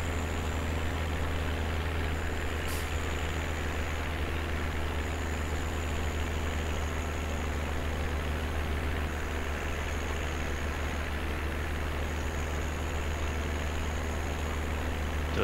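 Tractor engine in the Landwirtschafts Simulator 17 farming game, a steady low idling drone that runs loud and unbroken throughout with a faint high whine above it and no talk.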